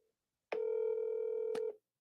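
A telephone dialing tone sounds once, a single steady tone lasting about a second with sharp clicks at its start and end, clear and close against silence.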